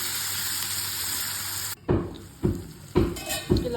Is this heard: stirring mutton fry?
yes